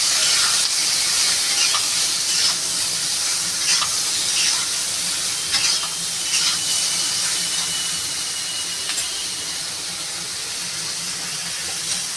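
A Bengali fish curry with chillies and turmeric fries loudly in a pan, a dense steady sizzle and hiss with occasional stirring scrapes that eases slightly toward the end.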